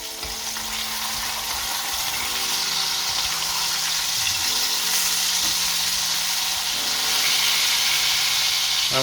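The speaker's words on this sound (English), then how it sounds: "we flip the bacon." Bacon strips sizzle and spit steadily in a frying pan just after being flipped, a dense continuous crackle with faint low hum beneath, growing slightly louder toward the end.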